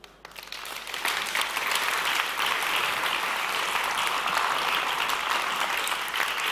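Steady audience applause at the Impact Festival 2021 after a CEO's welcome speech, rising quickly and holding as dense, even clapping throughout.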